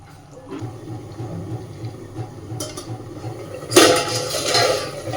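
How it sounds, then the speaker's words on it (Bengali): Water splashing into a pan of cauliflower chochchori, a short burst of pouring near the end after quiet kitchen clatter and faint clinks, no talking. "আর একটু জল দিয়ে দিচ্ছি।"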